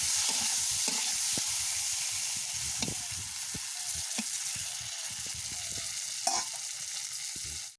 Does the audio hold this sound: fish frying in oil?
yes